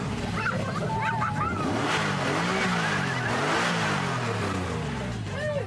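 A TVR sports car built in Blackpool revs hard nearby, its engine note sweeping up and down in repeated surges. A dog barks faintly and voices are heard alongside it.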